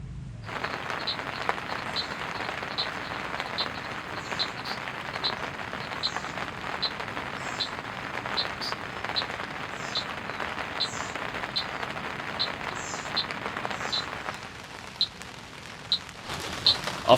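Rain falls steadily on a campsite in the Drakensberg mountains with a soft hiss, dotted by faint high chirps, then thins out toward the end with a few sharp drips.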